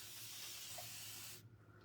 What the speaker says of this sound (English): So same thing, spray with water